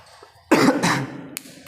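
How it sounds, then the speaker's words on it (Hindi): A man coughs once, a short harsh burst followed by a rougher trailing cough, close to the microphone in a quiet room during a class lecture. "खांसी भी आ रही है"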